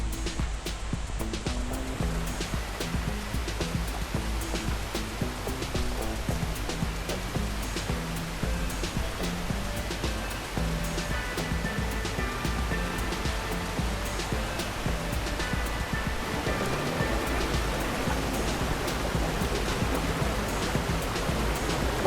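A waterfall at Gabaldon Falls in Nueva Ecija, with dense, steady rushing water that roars continuously and evenly throughout, close and fairly loud.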